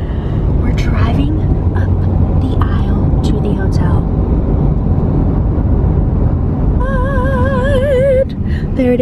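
A car drives along with a steady low road and engine rumble filling the cabin, while people talk and a voice sings briefly near the end.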